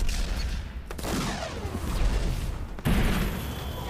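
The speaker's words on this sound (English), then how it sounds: "there's a machine gun around the top" Dense, continuous gunfire and rumbling combat noise from a war drama set on Iwo Jima, loud and sustained throughout with a brief dip before resuming.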